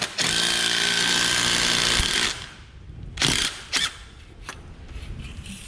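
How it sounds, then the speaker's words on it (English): A power grinder runs loud and close for about two seconds, grinding a part down in a race-car shop, then cuts off. A few short, sharp bursts of grinding or tool noise follow against quieter shop background. "No, just grind it off."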